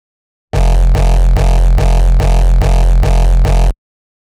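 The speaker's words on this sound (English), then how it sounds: "I bounced out the tail of the kick with the attack part intact," Hardstyle kick, bounced with its attack intact and its distorted tail: eight loud, evenly spaced, punchy distorted kicks with a heavy droning low tail, repeating for about three seconds before stopping abruptly.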